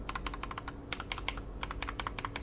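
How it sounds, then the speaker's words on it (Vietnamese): Typing on an AKKO V2 One Piece mechanical keyboard fitted with keycaps gives a steady run of close, smooth clicky keystrokes in fast bursts, with no voice over them. "Và đây là tiếng khi mà có keycap."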